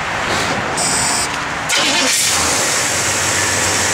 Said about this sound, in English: Just turn the key, fire it up.